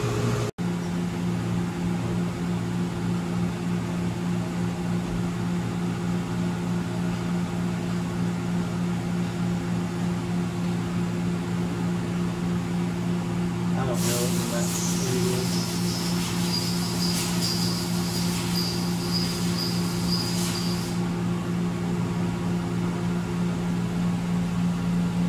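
On a 2007 Mazak Integrex 2004S, the main spindle turns at 100 RPM as a steady low machine hum and whir, holding even the whole time, with a brief high whine rising partway through and no talk.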